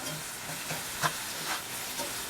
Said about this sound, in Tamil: நல்லா அந்த வாட்டர் எவாப்ரேட் ஆகிற வரைக்கும் குக் பண்ணும்.